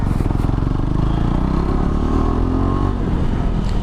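KTM 390 Adventure motorcycle with its dB killer removed from the exhaust, a loud, continuous, throaty engine rumble with rapid firing pulses close by.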